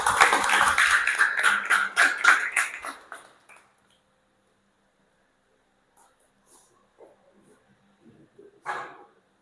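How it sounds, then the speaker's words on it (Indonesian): A classroom of students claps for a group, a loud burst of quick rhythmic claps for about three seconds before fading into near silence with faint scattered sounds and a brief noise near the end. "beri tepuk tangan untuk kelompok 4"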